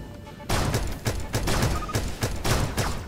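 Video game gunfire in Starbound, a rapid series of loud, evenly spaced shots in a steady rhythm. They start abruptly after a brief quieter moment and keep going to the end.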